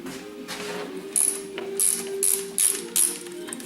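A ratchet clicks in short bursts while backing out T40 screws from the air pump on a Porsche Cayenne, sharp mechanical ticking close up, repeated several times over a low hum.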